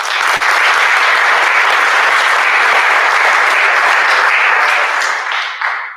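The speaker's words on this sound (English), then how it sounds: "Give her another round of applause." Loud, sustained audience applause filling a school awards assembly for eighth graders, dense clapping from a large crowd that holds steady for several seconds before starting to taper at the end.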